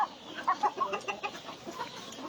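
Free-range chickens on a small farm clucking softly nearby, a string of short irregular clucks and murmurs, fairly quiet.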